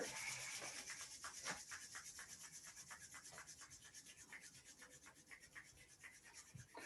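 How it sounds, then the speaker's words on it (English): Palms rub briskly together during a quiet qigong-style energy exercise, a steady close swishing friction repeated in a soft, even rhythm with no talk. "Rub the hands together."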